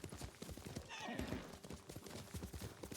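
Horse hooves clip-clop in a steady rhythm in Ghost of Tsushima, with a brief whinny near the middle and low voices talking faintly underneath.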